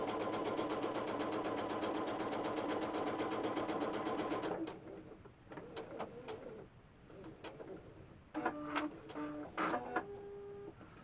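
A sewing machine stitches backing onto a quilt block in a fast, steady mechanical whir for several seconds, then stops; short bursts of handling and small taps follow, all fairly quiet and close.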